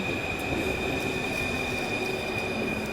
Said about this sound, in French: Il y a le bruit du métro comme vous pouvez l'entendre